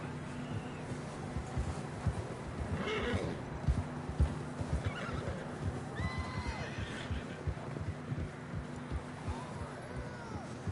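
Horses neighing and whinnying in the Red Dead Redemption 2 video game, with clip-clopping hooves and a low steady hum beneath, heard in a few scattered calls across a busy outdoor scene.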